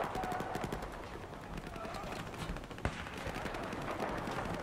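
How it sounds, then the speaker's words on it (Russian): Rapid rifle gunfire in the shooter game Battlefield 4, a dense stream of quick shots with explosions and battle noise, while someone talks throughout. "Главное, не выдалбливать из этой винтовки просто вот пулеметный темп стрельбы."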